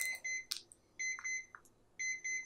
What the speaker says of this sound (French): À la fin de la minuterie, on va entendre une petite sonnerie comme ça.